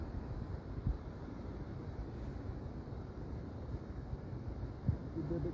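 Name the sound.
floodwater rushing across a road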